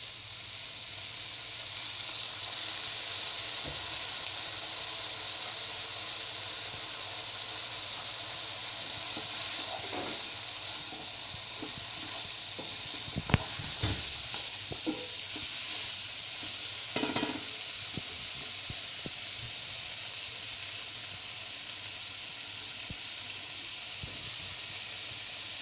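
Macaroni with chicken and vegetables sizzles steadily in a pan as soy sauce is added, a constant close hiss with occasional stirring knocks and a brief splash of liquid midway.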